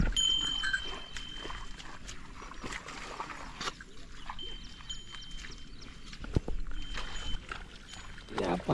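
Bullocks muddied from paddy planting are washed in a stream on a Konkan village farm, with water splashing and pouring continuously at close range under a steady outdoor wash of sound.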